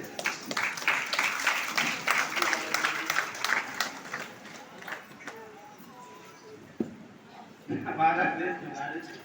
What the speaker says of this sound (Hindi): एक जोरदार ताली आप सभी के लिए।